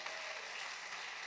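Brief, faint congregational applause during a Portuguese-language church communion service, a soft even wash of clapping heard at a distance.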